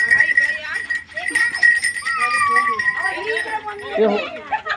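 A goat bleats nearby amid lively talk and children's voices, with a tone ringing in the background throughout.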